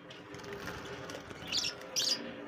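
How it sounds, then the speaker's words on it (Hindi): Cockatiels in a breeder setup in Islamabad give two brief, faint high chirps near the end, over a low, steady background murmur. "ये जी इन्होंने कॉकटेल लगाए हुए हैं जी नाजरीन।"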